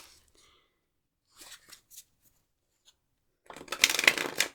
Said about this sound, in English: We'll do another shuffle.